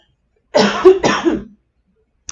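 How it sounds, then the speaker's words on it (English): Two loud, close coughs in quick succession, followed by quiet and a faint click. "I start coughing."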